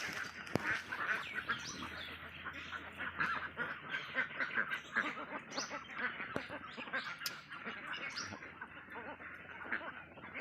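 Ducks and young ducklings on a layer-duck farm, a continuous chorus of many overlapping quacks and honks at moderate distance, busy and steady throughout.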